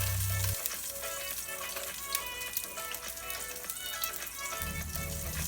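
Butter sizzling and frying in a thin layer of hot canola oil in a cooking pot, a steady close crackle with dense spitting pops that runs throughout, with a duller patch at the start and end.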